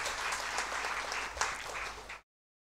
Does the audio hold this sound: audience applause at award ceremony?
yes